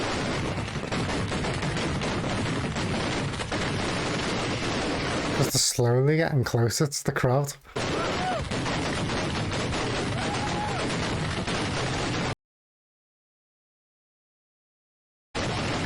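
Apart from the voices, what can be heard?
fireworks exploding on the ground near a crowd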